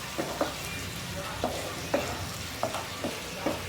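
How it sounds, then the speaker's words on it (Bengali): Coriander leaves and four green chillies are stirred into a shahi chicken handi over a low, continuous sizzle, with spaced, regular scraping strokes of the spoon heard up close and no speech. "ধনে পাতা চারটে কাঁচা লঙ্কা এটাকে ভালো করে এর সঙ্গে একবার মিশিয়ে নিচ্ছি"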